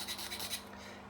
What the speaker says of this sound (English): So I'm just going to get a bit of that burr off there, a bit of there,